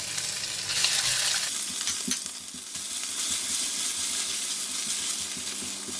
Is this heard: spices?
yes